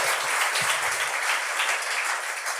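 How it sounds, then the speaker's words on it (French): An audience at a comedy gong show gives brisk, continuous applause with a dense clatter of many hands, heard alone with brief low murmurs at the start. "Oui, vous pouvez l'applaudir."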